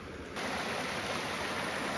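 The Río Blanco near Chilecito rushes past in a steady, dense roar of flowing water that swells up after a quieter start and holds loud and continuous, with no voices.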